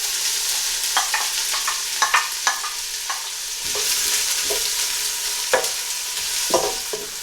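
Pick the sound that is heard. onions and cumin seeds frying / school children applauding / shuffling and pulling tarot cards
onions and cumin seeds frying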